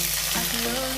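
Paneer pieces fry in hot oil with dried and green chillies, a steady close sizzling hiss that carries on without a break for a single second, with no voices.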